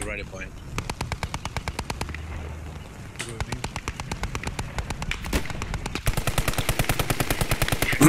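Sustained automatic machine gun fire in the World War II video game Post Scriptum, fast regular bursts that rattle almost continuously and grow louder and denser toward the end, with a brief lull midway and talk faintly underneath.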